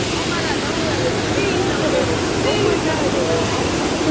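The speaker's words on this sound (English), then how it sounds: "Oh no, it looks like a water main broke." Water gushes loudly and continuously from a broken water main during the Universal Studios earthquake ride, a dense close roar with no breaks, with faint voices beneath it.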